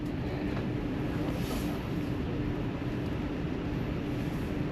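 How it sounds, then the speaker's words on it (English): A Sydney train departing Milson's Point station toward North Sydney rumbles steadily as heard from inside the carriage, a loud continuous low drone with a faint high whine above it. "it looks like our train is about to depart Milson's Point and we're about to go into North Sydney"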